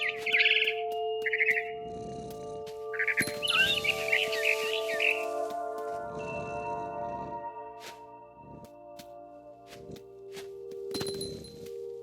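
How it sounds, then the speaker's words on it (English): Chirps from a barn swallow in the game What Remains of Edith Finch come as short bright bursts over a steady tonal ambient hum, with soft thumps and faint clinks scattered through and no speech. "Then I heard chirping outside my window. It was a barn swallow going back to her nest."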